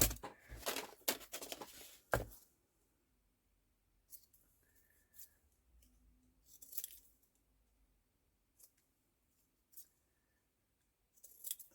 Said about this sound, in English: Just cut around these.